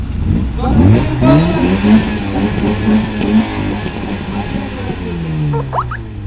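A sports car engine accelerates loudly nearby, its note rising through repeated revving sweeps and then settling, with faint voices underneath.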